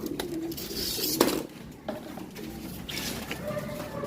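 A racing pigeon coos in low, soft bursts close by, with someone talking over it and some rustling and background noise.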